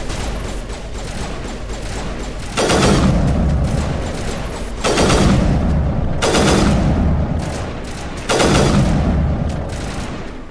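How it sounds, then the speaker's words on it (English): Several heavy explosions boom in the video game Mass Effect Legendary Edition, four loud blasts spaced a couple of seconds apart, each with a rumbling tail, over constant battle noise. "Think I could throw a grenade all the way over there?"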